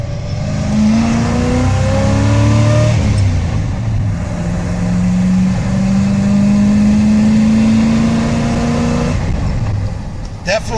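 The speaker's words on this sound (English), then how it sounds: "there is definitely no arguing with the sound of just an old school air cleaner" A carbureted V8 in a squarebody Chevrolet Suburban with a 5-speed manual and 4WD, breathing through an old-school air cleaner, revs up and holds a rising drone while driving, loud and close, with speech faintly underneath.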